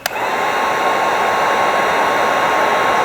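Heat gun warming the tail lights of a 2014-2021 Jeep Grand Cherokee, a click and then a steady loud blowing whoosh with a faint high whine held throughout, close to the listener.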